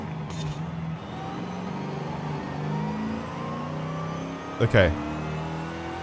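A supercharged car engine in Forza Horizon 5 drones steadily at a moderate level, pitch rising slowly through long gears, with a brief voice and a short knock near the end.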